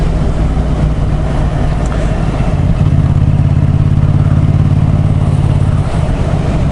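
A Yamaha MT-07 motorcycle engine drones loud and close throughout, its revs rising and holding steady with a rhythmic throb toward the rev limiter, then easing off near the end, with no talking.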